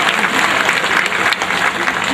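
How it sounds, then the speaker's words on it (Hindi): Loud, dense applause from a large crowd at an outdoor community rally in Balrampur Garden, welcoming a guest speaker, steady and sustained throughout without a break. "जोरदार ताली से इस्तकबाल कीजिए"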